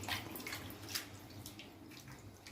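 Konaganti leaves are washed by hand in water, giving soft, faint splashing and dripping sounds that continue throughout, close by and quiet, without any talking.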